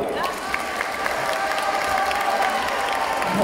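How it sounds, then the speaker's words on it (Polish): An audience at a Women's Day concert bursts into sustained applause with some cheering after a band's members are introduced, loud and steady throughout with crowd voices mixed in. "Oczywiście największą brawa dostała."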